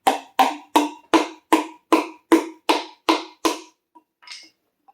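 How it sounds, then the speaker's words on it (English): A small hammer taps ten times in a steady, even rhythm, sharp and close, while tanning a snake skin, followed by a couple of faint, softer knocks. "Got a little hammer right here."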